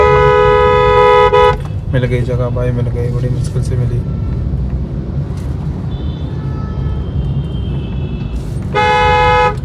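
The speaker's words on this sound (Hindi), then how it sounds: "इतना हॉर्न बजा रहा हूँ भाई सामने वाले को" Car horns honk repeatedly in busy traffic, long blasts at the start and end with shorter toots between, over engine rumble while someone talks.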